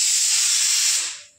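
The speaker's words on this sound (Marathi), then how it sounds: "तर कुकर शिट्ट्या होते आता." A pressure cooker of moong dal lets out steam in a loud, steady rushing hiss. The hiss runs for about a second, then fades quickly.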